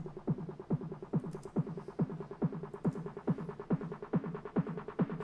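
A punchy electronic snare repeats in a steady rhythm, each hit bending upward in pitch, over a low pulsing throb.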